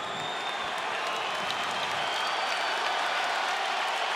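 Arena crowd at a UFC 290 featherweight title fight applauding steadily after a competitive first round, a dense continuous roar of clapping and cheers with no pauses.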